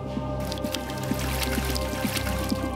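Water streams through a walled Persian garden with greenery. It makes a steady, close trickle with soft splashing drips and gurgles recurring at an irregular rhythm, and no voices are heard.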